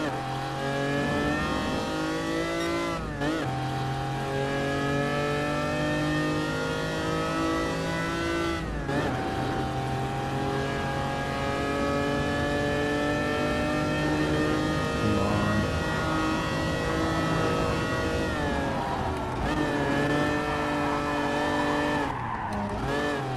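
Lancia Stratos engine in Gran Turismo Sport revving hard through gear changes, its harmonic whine rising and dropping with brief lifts and tire squeal, loud and continuous on track.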